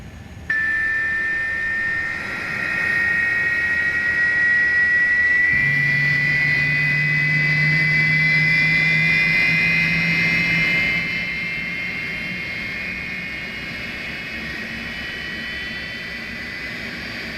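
Airbus A300 jet engines running in a flight simulator game make a steady, loud whine and roar. A lower drone joins partway through, and the sound eases slightly near the end.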